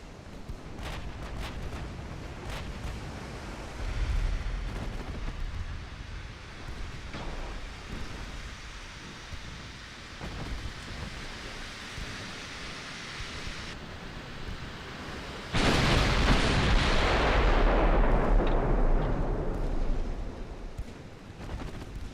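Naval gunfire in the warship battle game Ultimate Admiral Dreadnoughts: a steady rumble of distant shelling and splashes, swelling into a loud, sustained blast near the end, with no talk.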